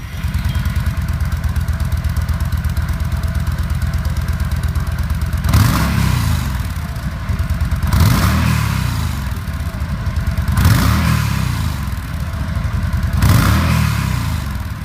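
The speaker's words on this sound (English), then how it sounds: "Exhaust sound of Yamaha Stryker" Yamaha Stryker 1300 cruiser motorcycle with a loud, steady low-frequency exhaust rumble at idle, then several repeated throttle blips each swelling into a roaring rev and falling back, close and alone with no talk.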